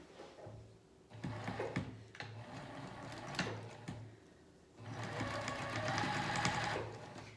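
A sewing machine stitches a 5/8 inch seam up a pajama pant leg, a steady mechanical whir in bursts that start and stop, with brief pauses between runs. No voice.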